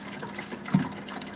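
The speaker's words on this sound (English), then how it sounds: "Cold water." Cold water is poured in a short, soft splashing trickle that peaks briefly in the middle, quiet and close, with no talking.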